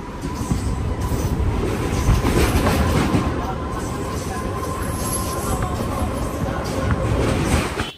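MEMU Express passenger train running on rails between Vijayawada and Guntur, a loud continuous rumble with rhythmic wheel clatter and faint squeals, heard from on board with a voice now and then.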